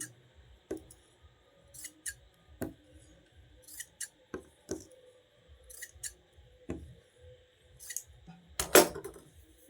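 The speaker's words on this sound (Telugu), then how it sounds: "ఇవైతే కట్టింగ్ చేసేస్తున్నా" Scissors snip through fabric border pieces being cut for neckline piping, about a dozen crisp, close cuts spaced irregularly, the last one louder and rougher, with no talking.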